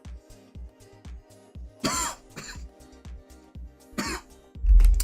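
Several close, loud coughs and throat clearing in quick bursts, with short quiet gaps between them and a heavier rasp at the end.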